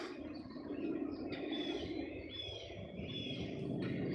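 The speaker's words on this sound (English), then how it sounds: "I don't know if y'all could hear the bird" Short bird chirps and tweets ring out in a quiet indoor room, faint and fairly distant, repeating in a loose irregular pattern over a low steady background hum.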